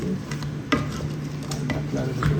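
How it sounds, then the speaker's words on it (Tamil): Sri Lankan crab curry with coconut milk is stirred in a pot, making a soft simmering sizzle with light scraping stirs and one sharp utensil knock against the pot, all close and steady. "கறியை நன்றாக கிளறி விட்டு"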